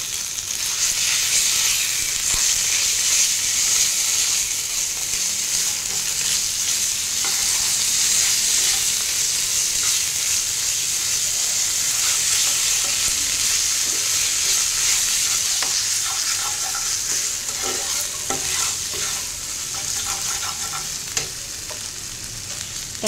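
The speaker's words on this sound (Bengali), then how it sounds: "এবার আমি অ্যাড করে দেবো আলুটা, সেদ্ধ করে রাখা আলুটা দিয়ে আবারও ভালো করে এটাকে মিশিয়ে নেব" Boiled potato being stirred into onion, garlic and chili frying in a pan for a prawn chop, a steady close sizzle with scraping stir strokes, no talking.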